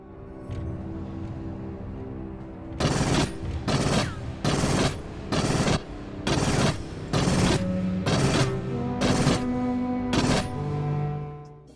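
Bursts of pulse rifle fire from the video game Aliens: Fireteam, nine or ten loud automatic volleys in a steady rhythm over a droning game soundscape, with no talk.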